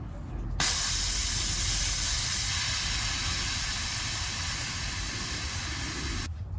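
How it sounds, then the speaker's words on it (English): Air hissing steadily out of a bicycle tire being deflated while the bike is taken apart, a loud continuous broadband rush that starts abruptly and stops abruptly after about six seconds. "Tires have to be at least deflated."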